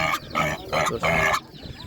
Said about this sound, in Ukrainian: Ці свинки гарно швидко ростуть.